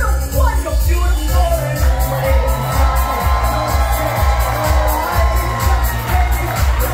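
An audience applauding and cheering aboard a Virgin Voyages cruise ship, a loud sustained crowd clapping with whoops, mixed with rhythmic music underneath.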